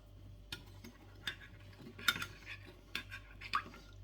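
Utensil clinking and scraping against a bowl while a mixture is stirred, giving irregular light taps and chinks over a low steady hum, close and fairly quiet with no talking.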